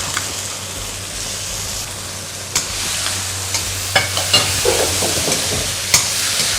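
Fermented soybean paste stir-fried in oil in a pan while cooking stir-fried rice vermicelli with water mimosa, a steady close sizzle with a low hum and scattered scraping clicks of a utensil stirring.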